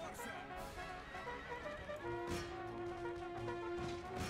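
Horses whinnying amid a battle in the strategy game Empire: Total War, with a sustained neigh and clattering hoof and impact sounds, fairly quiet in the mix.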